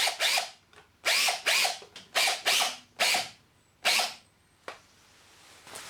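A screw being driven with a power driver through a fixing into a plug in an insulated wall, several short whirring bursts in a stop-start rhythm, close and fairly quiet, with no talk.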